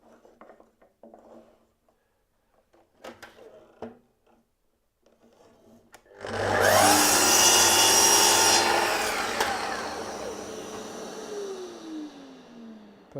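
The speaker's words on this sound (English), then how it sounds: "All I'm doing is cutting off the set of the teeth on the saw blade" A saw blade's teeth are cut down to remove their set, starting as sparse quiet clicks and knocks, then a loud, harsh grinding cut begins and holds for several seconds before slowly tapering off.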